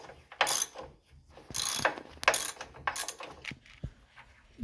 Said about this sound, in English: next we're going to take this bolt out at the bottom of the control arm